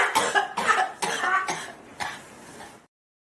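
A woman coughing hard after smoking weed, five rough, harsh bursts in quick succession, loud and close, tapering off before silence.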